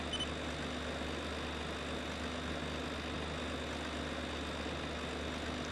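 A tractor engine idles steadily in Farming Simulator 2013, with a constant low rumble and mechanical hum, continuous and fairly close, with no talking.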